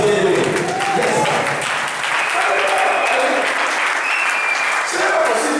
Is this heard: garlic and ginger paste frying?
no